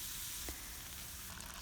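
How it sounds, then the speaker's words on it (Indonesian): Chicken poured into a hot nonstick pan, giving a steady, close hiss of sizzling that stays even throughout, with no talk. "hidupin api dan tuang ayam ke dalam teflon"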